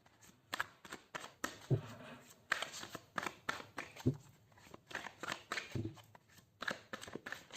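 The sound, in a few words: tarot cards being shuffled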